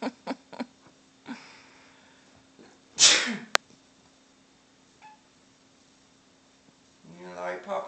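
A man gives a single loud, sharp sneeze indoors, a brief explosive burst standing out from quiet household background with speech around it.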